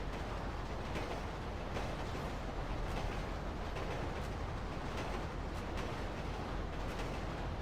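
Train running on rails in the video game WorldwideRP, a steady, continuous rumble of wheels and carriages with faint rhythmic clatter, moderately quiet and unbroken throughout with no talking.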